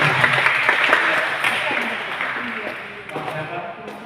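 Applause from participants at a church conductor training session, a steady wash of many hands clapping that fades slightly toward the end, with a voice speaking faintly underneath.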